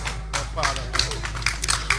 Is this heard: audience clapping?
yes